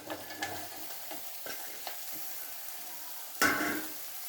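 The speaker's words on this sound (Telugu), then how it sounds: "ముందుగా కోసుకున్న సొరకాయ ముక్కలు వేస్తున్నానండి." Pieces of bottle gourd go into a hot pan for a curry, giving a few soft scraping and clattering bursts over a low, steady frying hiss, with one louder sizzling burst near the end.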